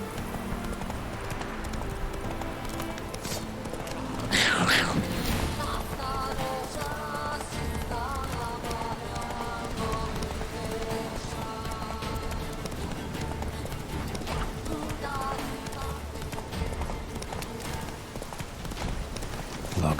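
Horse hooves galloping in The Witcher 3 video game, a steady clip-clop rhythm running throughout over a continuous bed of game music and ambience, with a brief louder burst early on.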